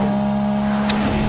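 A Toyota small city car accelerates hard from a standing start, its engine giving a steady, loud droning hum with a brief sharp transient near the end and no talking over it.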